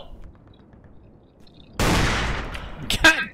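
Gunfire in the blocky first-person shooter Ace of Spades: a sudden loud burst of shots starts midway and rings on, with a couple of sharper cracks near the end, after quiet background.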